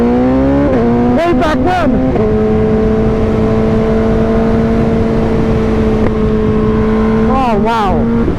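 A 2013 BMW HP4 superbike engine revs hard while riding, its loud steady drone rising through quick upshifts at the start and again near the end, with a brief spoken remark under the noise.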